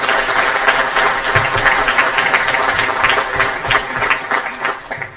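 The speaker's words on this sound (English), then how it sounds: "All of you, please give yourselves a round of applause." Audience applause at the 2017 C.A.C. awards banquet, loud close clapping with distinct individual claps in an uneven rhythm, sustained for about five seconds and tapering at the end.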